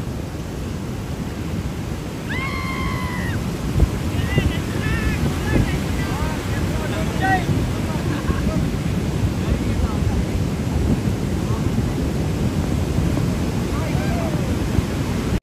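Ocean waves surge at a beach in Goa under heavy wind buffeting the microphone, a continuous rough wash of surf with faint high calls drifting over it.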